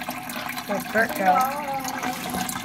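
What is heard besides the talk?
water of a waterfall rushing over a turtle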